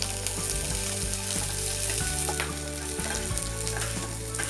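Shallots, garlic and curry leaves sauté in oil in a pan, giving a continuous close sizzle with a few stirring scrapes.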